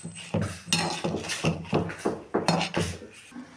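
Food is stirred and mixed in a pot while salt goes into a vegetable dish, making a series of close, clattering scrapes and knocks of a utensil against metal in a quick, steady rhythm, with no talking.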